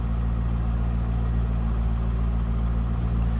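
A 2000 Chevrolet Corvette Coupe with an all-stock exhaust runs steadily, a deep, loud, continuous low rumble close by with no talking and no change in revs.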